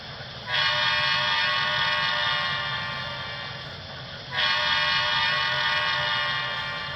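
Model railroad train running on a home layout, sounding two long sustained horn blasts, each holding steadily for several seconds over a low rumbling bed of running noise.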